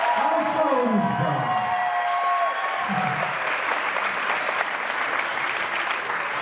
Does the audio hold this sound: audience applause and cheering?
yes